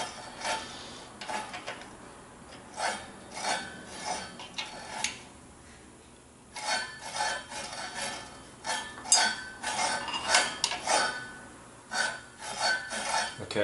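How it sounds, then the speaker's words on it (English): The reel of a Jacobsen LF 3400 mower turns against its bedknife, giving soft, faint, irregular swooshing and light scraping strokes that come in clusters with quiet gaps between them. "That swooshing sound is what I want to hear."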